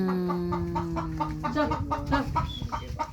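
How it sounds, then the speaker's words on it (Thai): Chickens clucking in a rural Lao farm setting near a field hut, a steady run of short repeated clucks close by, with a low engine-like hum underneath. "ไก่มันอยากหาไข่"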